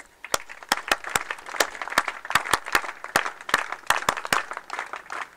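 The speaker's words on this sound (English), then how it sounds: "A big round of applause, please." Scattered clapping from a modest audience at an Independence Day celebration, with sharp individual claps in an uneven rhythm, fairly quiet and steady throughout.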